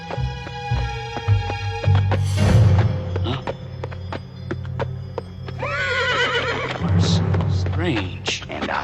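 A cartoon horse whinnies loudly with a long neigh, hooves clip-clopping in between, followed by a second neigh, under animated dialogue.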